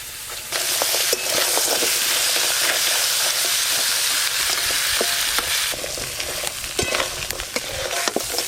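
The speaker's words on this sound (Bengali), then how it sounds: "গরম তেলে এইভাবে নাড়তে নাড়তে কাঁকড়ার গায়ের কালারগুলো চেঞ্জ হয়ে যাবে।" Crab stir-fried in hot oil sizzles in a loud, steady hiss, with scattered pops and the scrape of a spatula stirring through it; no voices.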